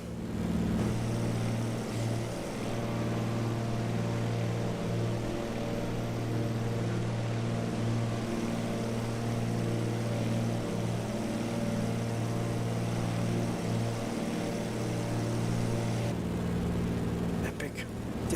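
Steady, droning propeller engine hum of a de Havilland aircraft in flight, with strong low tones, constant and loud throughout, heard from inside the cabin.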